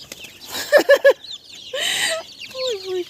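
Bantam chickens, small spotted and brown birds on a farmyard, cluck loudly and close in a quick burst of three sharp calls, followed by longer drawn-out squawks and a falling, wavering call.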